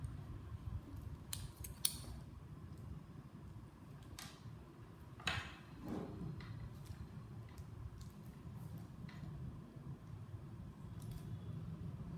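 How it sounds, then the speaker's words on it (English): Insulation tape is wrapped around and cut on the wiring of a 4-way outdoor LED light, giving faint, quiet snips, crackles and rustles at irregular intervals. "just insulate this with some insulation tape"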